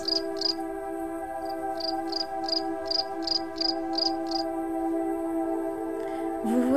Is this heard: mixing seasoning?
no